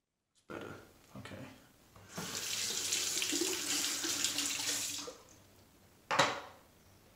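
Tap water rinses leftover lather from a shaving brush in a sink, starting with short splashy bursts, then a steady running stream for about three seconds, then a final brief gush, close and quiet.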